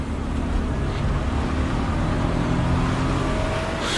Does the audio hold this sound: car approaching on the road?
yes